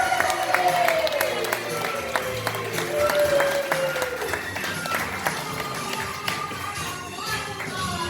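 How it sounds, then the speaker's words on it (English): Party guests at a 50th wedding anniversary celebration applaud and cheer for the hosts, a steady dense wash of clapping and crowd noise with a voice sliding over it, continuous and fairly close throughout. "let's have a big cheer for our hosts, Bob and Sally Glenn."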